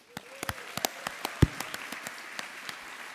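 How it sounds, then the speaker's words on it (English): Scattered clapping from an audience at an awards ceremony honoring inductees, a modest and fairly sparse applause of distinct individual claps with one loud clap standing out. "Can we get a hand for all of our honorees?"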